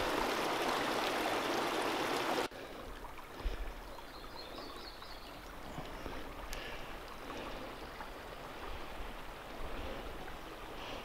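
A mountain stream near Nambe Lake in the Pecos Wilderness rushes steadily at a trail crossing, loud and close at first, then a softer continuous babble for the rest.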